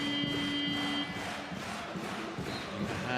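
Basketball arena crowd of ALBA Berlin fans cheering and roaring, a steady loud wash of many voices throughout, with a commentator faintly talking underneath.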